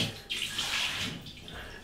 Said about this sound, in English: Okay, drain pour.